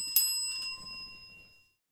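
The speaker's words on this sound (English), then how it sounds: "Let me get the bell for you." Small desk bell struck once for a donation, giving a bright sharp ding that rings on and fades out over about a second and a half.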